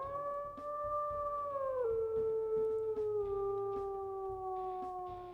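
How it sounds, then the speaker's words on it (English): Wolf in the Timber Wood video game giving a long, clear, loud howl that glides downward in pitch and holds steady, alone with no talk. "we'll listen to his howls here."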